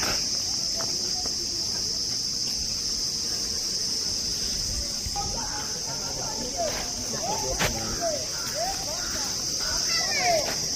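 Crickets chirp steadily in a constant high-pitched drone throughout in the Sundarbans, with people talking faintly in the background.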